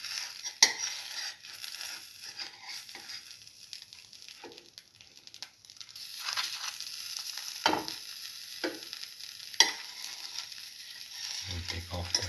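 A cottage cheese and eggplant tortilla wrap fries in a pan with a steady, close sizzle, broken by a few sharp utensil scrapes and clinks as it is turned; no one speaks.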